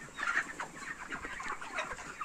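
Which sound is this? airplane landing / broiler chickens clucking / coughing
broiler chickens clucking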